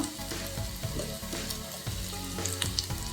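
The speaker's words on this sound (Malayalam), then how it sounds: "ഇനി ഇതിലേക്ക് വെളുത്തുള്ളി പച്ചമുളക് ഇഞ്ചി കറിവേപ്പില ചേർത്ത് വഴക്കാം" Garlic, green chili, ginger and curry leaves sautéing in a pan, a close, continuous crackling sizzle with light stirring scrapes, no talking.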